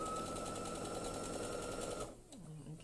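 A quiet, smooth-running sewing machine stitching a bag lining gives a steady, close mechanical whirr that stops abruptly near the end.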